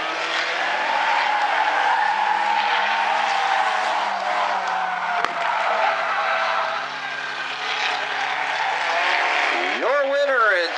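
Stinger 8 race cars run hard through a turn at South Sound Speedway during the A-Main, a dense, steady roar of engines and skidding tires, with squealing rising near the end, under continuous race commentary.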